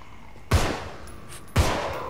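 Two sharp, booming gunshots in the video game Contagion, about a second apart, each with a short echoing tail, against a quiet background.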